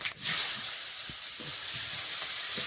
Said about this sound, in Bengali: তেল আছে এর মধ্যে একটু পাঁচ ফোড়ন দেবো